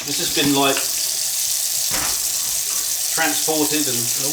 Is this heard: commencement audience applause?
no